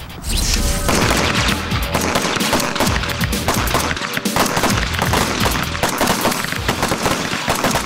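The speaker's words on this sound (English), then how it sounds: "You're going to be firing double taps. That's 2 rounds, okay, followed by another 2 rounds, so on and so on, until I tell you to stop." Rapid gunfire from a shooting range, pistols fired in steady double taps at targets, several shooters overlapping so the loud cracks run almost continuously with little pause between pairs.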